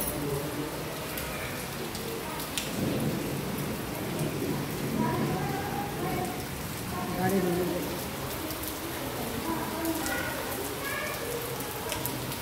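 Steady rain patters continuously on surfaces in Bajajnagar, Sambhajinagar, with scattered distinct drops and a low rumble underneath; voices murmur faintly in the background.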